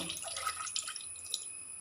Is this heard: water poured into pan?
yes